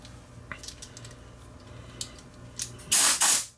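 An air compressor nozzle blows dust out of a dusty Toshiba W704 VCR in short, loud bursts of hissing air. Faint clicks and handling noises come first, and the blasts arrive near the end.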